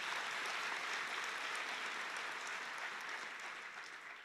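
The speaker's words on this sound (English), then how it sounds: "I think they need a round of applause." A crowd at a university welcome ceremony applauds a marimba band, the dense, even clapping sustained throughout and slowly fading toward the end.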